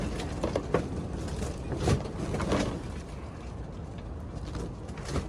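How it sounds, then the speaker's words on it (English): Broad, blustery wind noise buffets outdoors throughout, with gusts and faint scattered sounds underneath, and no one speaking. "Sorry about the wind."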